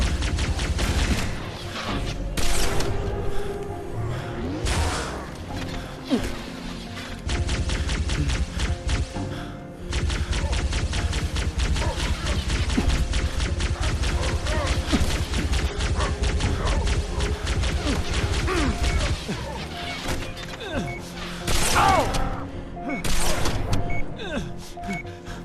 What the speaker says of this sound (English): I'm going to try to strip armor with this plasma pistol and then finish them with the beam rifle